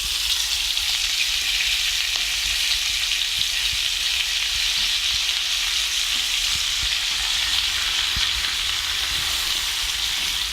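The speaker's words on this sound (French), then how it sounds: "Et je vais intégrer un bouquet d'épinards." A bunch of spinach fries with chickpeas in a pan, giving a steady, loud, close sizzle and hiss that holds evenly throughout with no voices.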